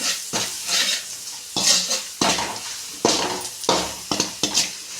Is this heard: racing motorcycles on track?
no